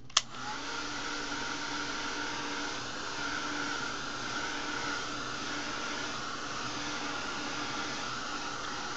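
Hair dryer blowing steadily on light molding paste spread over a canvas, a continuous close whirring hiss that starts with a click and holds level for the whole stretch.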